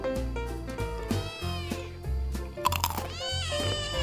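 A cat meows repeatedly up close, with drawn-out, wavering cries between crunchy snack-eating sounds, loud and clear with no talking over it.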